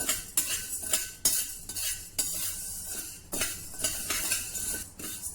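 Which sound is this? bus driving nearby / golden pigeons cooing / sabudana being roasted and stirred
sabudana being roasted and stirred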